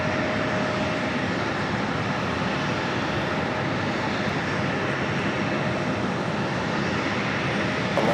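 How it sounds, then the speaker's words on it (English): Delta Connection CRJ 900LR regional jet arriving at JFK from Indianapolis: a continuous, fairly loud jet rumble that stays broad and unbroken throughout, with no talk over it. "This flight coming in from Indianapolis, Delta Connection, Flight 5116. That's a CRJ 900LR."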